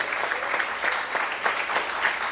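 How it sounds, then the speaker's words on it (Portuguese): Church congregation applauding and praising God during a sermon, a loud, sustained wash of many clapping hands with a gently pulsing rhythm and no voices standing out. "Quantos podem aplaudir e exaltar o Senhor?"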